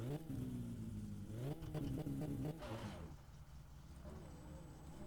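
Car engine in the video game My Summer Car revs and drones, rising and falling in pitch before settling into a lower steady hum, heard at moderate level.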